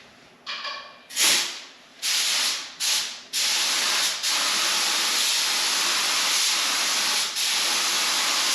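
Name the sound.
lacquer thinner blown through a spray gun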